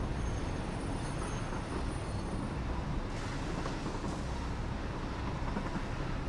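A continuous low rumble and rattle of a train rolling along the tracks in the video game Satisfactory, steady and fairly loud throughout with no voices.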